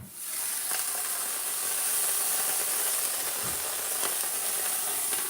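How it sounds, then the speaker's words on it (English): A Cajun roast sears in a hot pot with a continuous sizzling hiss. The sizzle is close and steady, with a few faint clinks and knocks underneath and no voices. "It's beginning to sear very quickly, so that's always a good sign."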